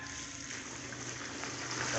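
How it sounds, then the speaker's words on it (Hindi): Water being poured out of a container holding detergent solution, giving a steady broadband splashing trickle that runs continuously and grows slightly louder toward the end. "पानी थोड़ा सा गिरा लेते हैं"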